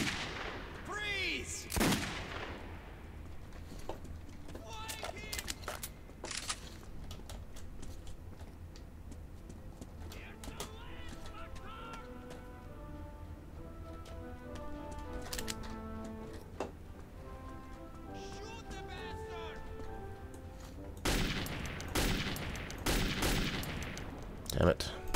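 Gunfire in the shooter Metro 2033 comes as scattered sharp shots, a few isolated early on and a cluster of loud reports near the end, with game effects and quiet tonal sounds in between.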